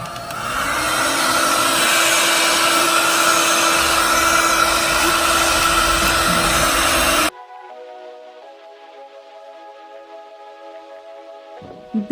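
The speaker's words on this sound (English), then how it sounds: "I'll like blow dry forward instead of back" A hair dryer blows loudly and steadily while hair is being styled, then switches off after about seven seconds, leaving a faint tonal hum and a brief clatter at the end.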